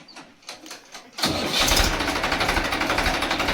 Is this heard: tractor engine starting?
yes